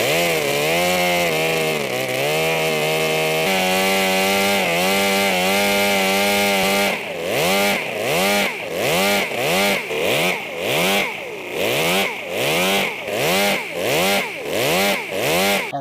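A miniature V12 engine runs on a dynamometer, first as a steady high-pitched buzzing drone, then surging in a rapid rhythmic rise-and-fall of revs roughly every second, loud and close throughout.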